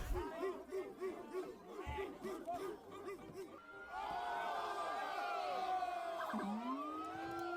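A crowd of New Yorkers chatters and shouts around a police car, with overlapping voices close by and a wailing tone rising and falling in the second half.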